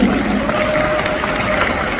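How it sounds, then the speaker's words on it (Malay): Dense, steady applause from a large audience at an Amway recognition event in Kuala Lumpur, loud and continuous with a faint crowd murmur and no clear talk. "Tepukan untuk MOA."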